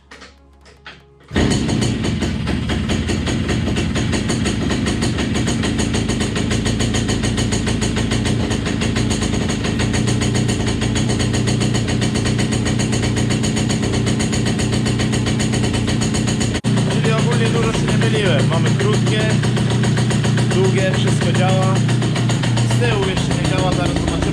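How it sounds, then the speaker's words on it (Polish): A Romet Ogar 205 moped engine fires up after a brief quiet moment and then idles steadily and loudly up close for the rest of the stretch, with a slight change in tone partway through. "Rometa trzeba odpalić."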